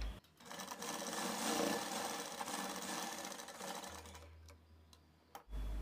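A sewing machine stitching blouse fabric runs in a steady, fast mechanical whir with rapid ticking, close and alone, then stops near the end.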